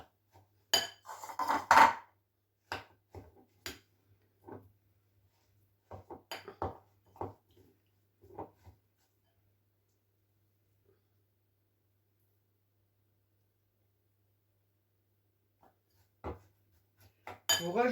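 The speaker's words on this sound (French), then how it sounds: "Il faut bien mélanger parce que faut que ça tout prenne bien" A utensil stirs a sticky peanut butter and oat cereal bar mixture in a bowl, making scattered clinks and scrapes in irregular bursts, with long quiet gaps and a final flurry of taps, and no talking.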